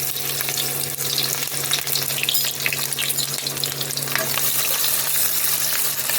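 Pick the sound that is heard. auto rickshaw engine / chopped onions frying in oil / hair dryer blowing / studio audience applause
chopped onions frying in oil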